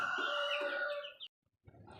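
A rooster crows loudly and close for over a second, then falls silent before chickens resume with rough clucking.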